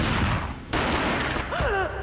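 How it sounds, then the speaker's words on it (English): A burst of gunfire from the Max Payne video game, with sharp rapid shots, then a short gap and a further shot, set among game effects and a brief swooping tone near the end. "A gunshot boomed and she fell down in slow motion"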